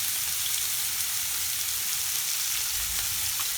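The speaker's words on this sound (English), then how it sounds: "So you took your chicken breast and put it in the pan and you start to cook it" Chicken breast fries in a pan with a steady, even sizzle of hot oil that crackles continuously at close range with no talking.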